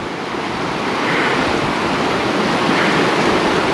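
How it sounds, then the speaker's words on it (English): Loud, steady roar of rushing water in the Tom Groggin area of the Australian highlands, a broad continuous wash that swells slightly and never pauses. "here's some rushing water"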